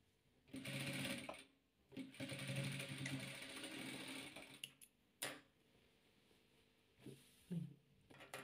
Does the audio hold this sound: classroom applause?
no